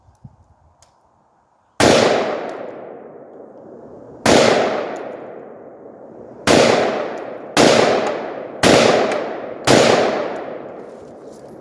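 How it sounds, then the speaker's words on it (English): An AR-15 rifle with a broken firing pin and missing gas ring fires six loud, sharp shots at irregular spacing, each crack ringing out and decaying before the next. "I've got like 6 rounds in here. I'm gonna shoot these"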